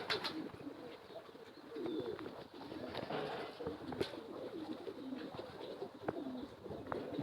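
Pigeons coo softly in repeated low calls, faint and somewhat distant among light outdoor noise and occasional faint chirps.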